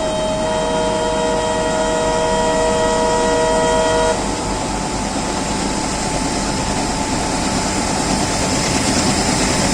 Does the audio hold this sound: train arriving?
yes